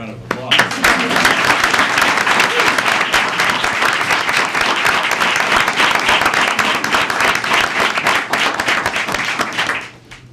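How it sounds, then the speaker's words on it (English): Crowd at a city council meeting applauding a police promotion ceremony, steady loud clapping lasting about ten seconds before fading out. "Let's give him a round of applause"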